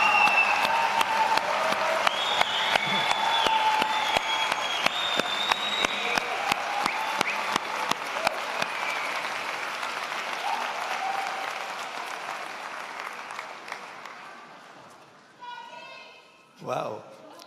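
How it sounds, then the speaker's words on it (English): A large convocation audience applauds the MacEwan University class of 2022, with sustained loud clapping and crowd noise and sharp individual claps up close, which fades gradually before brief voices at the end. "The applause meter is working hard for MacEwan."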